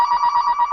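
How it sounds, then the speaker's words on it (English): A telephone rings in a radio studio, a steady, close electronic trill that warbles continuously without talk. "well, it's probably better the phone rang."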